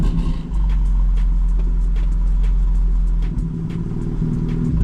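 A rebuilt BMW M4 drives past up close with a loud, deep engine rumble that swells and dips as the throttle changes, with no voices over it.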